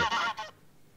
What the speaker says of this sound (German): hörte er noch aus der Ferne das lustige Geschrei der Gänse